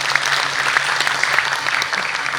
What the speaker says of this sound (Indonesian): Tepuk tangan untuk para mahasiswa kita.